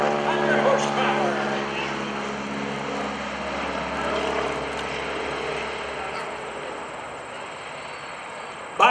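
Stearman biplane with a 500-horsepower radial engine rolling across the field at an airshow, a steady propeller drone that fades slowly over several seconds while an announcer talks over it.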